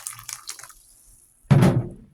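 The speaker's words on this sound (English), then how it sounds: "I should pour some more extra hot water to" Extra hot water pours into a container to rinse out sticky candy cane residue: a few faint drips first, then after a short silence a close, steady splashing pour.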